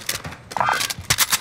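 Gunfire in Call of Duty comes as a handful of short, separated shots, sharp bursts with brief gaps between them and some clinking in the middle.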